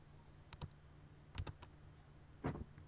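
Clicks of keys on a computer keyboard come in short, sparse bursts of two or three taps, close and faint, over a quiet room hum.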